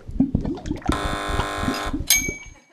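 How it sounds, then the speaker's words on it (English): A game show contestant's buzzer on a panel quiz sounds one long, loud, steady electronic tone for about a second, with a second shorter bright tone after it. Studio chatter and laughter carry on beneath it. "Buzzers on fingers."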